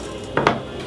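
A kitchen knife cuts through a potato on a board, two quick close chopping knocks in a row in a quiet room.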